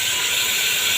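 Carrots tumbling into a hot pan already holding onions and potatoes set off a loud, steady sizzle, a close, continuous hiss of frying vegetables with no voices.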